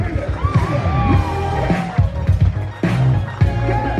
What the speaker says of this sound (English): Make some noise for Alyssa with Matthew and Tom.